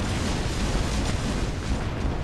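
An explosion in the War Robots mech combat game produces a dense, loud roaring rumble that fills the whole moment without letting up, with heavy low-end weight.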